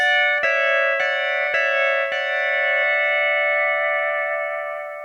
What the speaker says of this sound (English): in this lick we're letting our first string ring